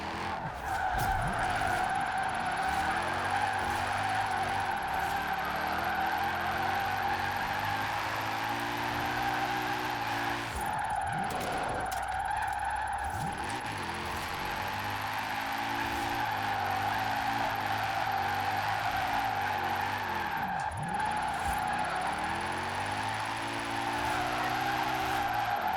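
Mercedes SLS AMG drift build in the racing game Forza Horizon 4 squeals its tires in long continuous skids, with a loud engine droning and rising through the gears, briefly easing around the middle before the drift resumes.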